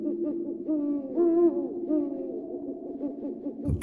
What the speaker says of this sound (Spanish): el ulular de los búhos parecía un lamento distante